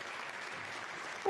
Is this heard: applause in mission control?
yes